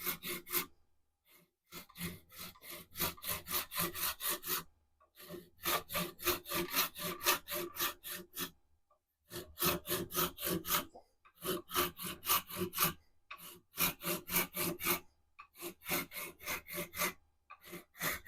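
A hand saw cuts through a turned wood segment held on a lathe in quick, even back-and-forth strokes, pausing briefly between bursts, rasping close and clear with no talking.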